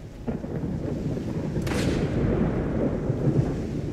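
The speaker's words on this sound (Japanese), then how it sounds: "おっと、雷落ちてくる。" Thunder rolls through a stormy outdoor area in the video game S.T.A.L.K.E.R. 2: Heart of Chornobyl, a dense continuous rumble with a sharper crack partway through, heard alone.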